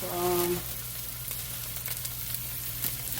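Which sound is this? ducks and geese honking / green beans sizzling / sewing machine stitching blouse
green beans sizzling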